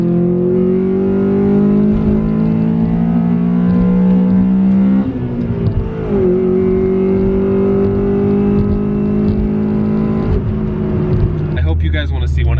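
A Honda Civic Si EM1 engine revs into VTEC, a loud buzzing drone that holds, dips briefly, then climbs to a sharper pitch before a rough burst at the end.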